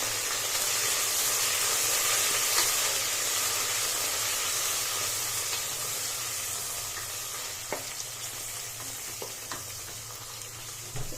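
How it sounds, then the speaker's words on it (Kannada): A cup of fresh coriander frying on a low flame for egg biryani gives a loud, steady oily sizzle and hiss close by, with occasional spatula taps and stirring clicks toward the end; no one talks. "ಕೊತ್ತಂಬರಿನ ಹಾಕೋತಾ ಇದ್ದೀನಿ ಹಾಕೊಂಡು ಚೆನ್ನಾಗಿ ಲೋ ಫ್ಲೇಮ್ ಇಟ್ಕೊಂಡು ಫ್ರೈ ಮಾಡಿ"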